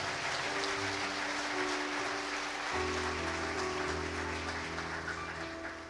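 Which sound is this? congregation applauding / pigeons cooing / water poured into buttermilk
congregation applauding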